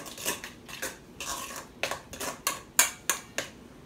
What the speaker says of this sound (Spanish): Voy a agregar solamente dos cucharadas de mayonesa y vamos a mezclar esto completamente